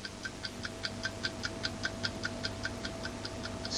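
Clocks ticking in a radio studio, a fast even series of crisp ticks, close and clear over a faint background hum, with no voices.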